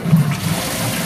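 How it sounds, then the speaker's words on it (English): A push-button toilet flush mechanism lifts inside its cylinder with a brief close gurgle and rush of water, loud and short with no talk. "If I put my finger down, I can feel the flush which lifts up."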